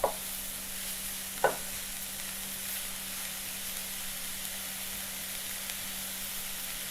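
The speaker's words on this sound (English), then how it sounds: "So I have my carrots and onion sauteed down." Carrots and onion sizzle steadily in a pan for muffin cup meatloaf, a soft continuous frying hiss with two sharp clacks of a utensil near the start.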